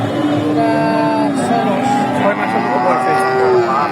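A cow, a heifer, bellows at Dhaper Hat cattle market in Bogura. Long, loud, drawn-out moos overlap one another continuously against a dense market murmur.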